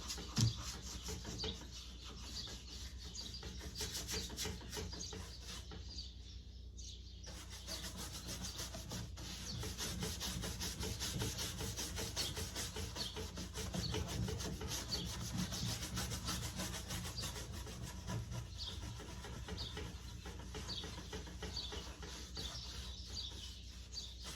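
Hard scraping and rubbing on an old wooden trunk as chipping milk paint is worked off, a steady close rasp running through the whole stretch with a brief pause near the middle and faint birdsong behind.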